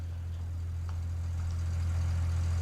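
A simulated tractor engine in a farming video game idles with a steady, deep low drone that continues unbroken, with a faint click partway through and no voices.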